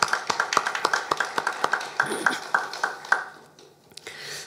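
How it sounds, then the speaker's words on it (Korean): Congregation applauding during a Korean church service, a steady run of close, crisp hand claps at a quick even rhythm that thins out and fades away toward the end. "이런 은혜 주신 아버지 하나님께 감사와 영광의 박수 올려드립니다."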